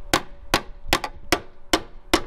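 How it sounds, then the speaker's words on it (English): Hammer and dolly straightening a buckled thick metal panel on a tow truck: six sharp, ringing metallic blows at a steady rhythm, one quick double strike among them, close and loud with no talking. "I started hammer and dollying this."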